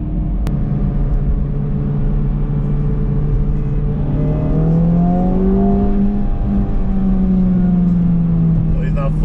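A 2023 Honda Civic Type R FL5 and a 2024 Acura Integra Type S accelerate hard together in a roll race, with loud sustained engine drone rising in pitch as the revs climb.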